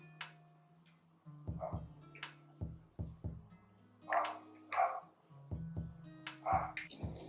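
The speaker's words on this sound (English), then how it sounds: "Do y'all hear that dog?" A dog barks repeatedly from a nearby spot indoors, bursts of several sharp barks separated by short pauses, loud and clear with no talking over them.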